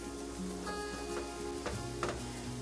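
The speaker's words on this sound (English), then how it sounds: "as it just sizzles and starts to smell really good." Chopped garlic sizzling in heated olive oil in a pan while making marinara sauce, a steady close crackling hiss that runs continuously with small pops throughout, no talking.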